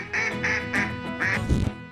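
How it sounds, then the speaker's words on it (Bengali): A duck quacks four times in quick, evenly spaced nasal calls, close and clear, followed by a brief rougher squawk at the end with no other sounds around it. "এটা হলো হাঁস। হাঁসকে ইংরেজিতে বলা হয় ডাক।"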